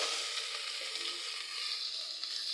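Boiled, finely chopped green beans fry in a hot pan with a steady, bright sizzle that continues evenly throughout, close and alone with no voices.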